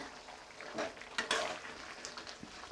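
Soft scraping and gentle sizzle as masala for chicken feet is stirred and fried in a pan, with a few clinks of the spoon against the metal, quiet and close.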